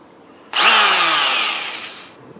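An old electric power tool, like a drill, switches on abruptly and whines at a steady, loud pitch for about a second and a half before winding down, with no talk over it.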